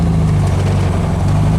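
A 1776 single-port engine idles close by, a loud, smooth, steady low hum with an even pulsing rumble and no speech over it.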